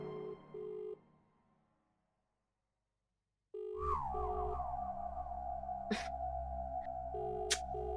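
A telephone rings in repeated electronic bursts, pauses into near silence, then resumes alongside a sustained warbling tone and a couple of sharp clicks.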